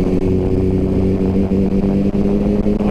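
A 2021 BMW F900 XR motorcycle being ridden, its engine giving a loud, steady, close drone with a constant low hum and slight fluctuations.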